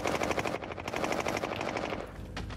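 Rapid automatic gunfire in a video game, loud and nearly continuous bursts throughout, with a brief lull near the end before another shot.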